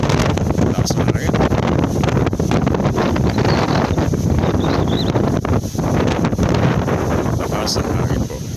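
Strong typhoon wind from Typhoon Rolly roars steadily into the microphone in Cavite, Philippines, a loud continuous buffeting rumble throughout with gusty surges.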